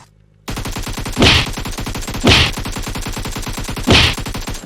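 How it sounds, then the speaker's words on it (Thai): Rapid automatic gunfire from the PUBG Mobile battle royale game, a steady fast rattle of shots emptying a full magazine with three louder bursts standing out, loud and continuous with no talking. "เมื่อกี้ยิงแม็กเดียวแบบ 360 องศาเลยนะครับ"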